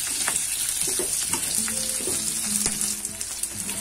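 Green chillies frying in a pan for a spicy chilli curry, giving a constant bright sizzle with occasional light stirring knocks close by, and no talking.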